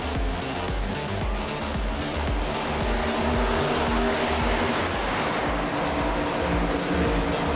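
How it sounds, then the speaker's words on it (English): Race cars roaring steadily around the track in the iRacing NASCAR Cup Series sim at the Chicago street course, a loud continuous drone of engines with occasional tire squeal and no voices. "you hear that? Well, it is cars on track."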